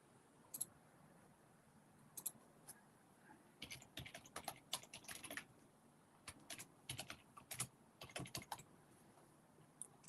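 Rapid bursts of keystrokes as a password is typed on a computer keyboard, close and crisp, with irregular clusters of clicks separated by short pauses and no talking.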